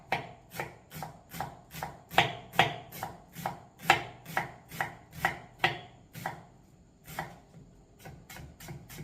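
Onion being chopped with a knife on a board, a steady run of about twenty crisp, close, evenly spaced chops that slow into a few scattered strokes near the end, with no talking.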